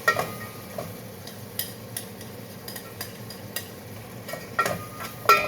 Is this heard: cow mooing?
no